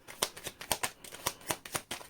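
A deck of tarot-style cards riffles and shuffles in a quiet room, giving a string of crisp, close, papery slaps at an irregular pace, with no talk over it.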